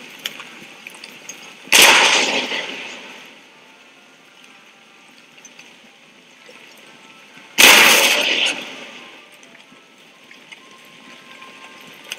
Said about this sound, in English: get some canister shot on the enemy. I think we've got one last volley left of us before they overrun these cannons